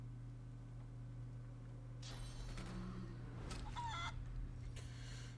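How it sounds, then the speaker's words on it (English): In the video game Divinity Original Sin 2, a chicken clucks in a quick burst of short calls over a low background hum, faint and brief, arriving after a swishing spell-like effect. "And then she gets turned into a chicken anyway."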